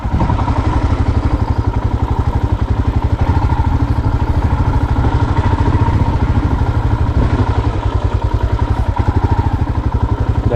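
A motorcycle rides over rough off-road hill terrain, its engine putting out a steady, close, rapid thudding beat with clattering from the bumpy track, continuous for the whole stretch and with no talk.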